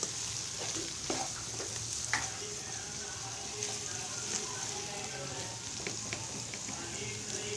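Chopped onions sizzle steadily in a hot pan while being mixed, a continuous frying hiss with occasional soft scrapes of a stirring utensil, close and even throughout.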